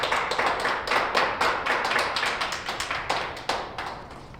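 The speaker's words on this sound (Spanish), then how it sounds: "Dale un aplauso a nuestro Señor, hermano" Church congregation clapping for the Lord, a rhythmic run of sharp, close hand claps with a steady beat that softens slightly toward the end.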